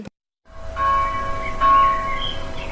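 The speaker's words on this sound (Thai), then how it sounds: "อ้าวพวกเราเสียงระฆังบ้านผู้ใหญ่ดังอีกแล้ว" After a brief silence, a bell rings out with a sustained, shimmering metallic tone, struck again midway and ringing on clearly.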